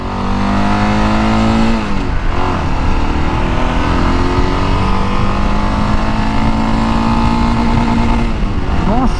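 Kawasaki KLR 650 motorcycle engine droning steadily while riding, loud and close, with the pitch easing off around two seconds before climbing slowly again through the gears, carrying on without pause throughout.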